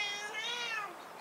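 A cat meows in a high, drawn-out cry of just over a second, close and clear against a quiet room.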